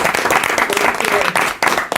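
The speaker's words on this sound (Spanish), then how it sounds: "vamos a darle un aplauso a la doctora" A crowd applauds with dense, steady clapping, loud and close, lasting a couple of seconds with voices mixed in.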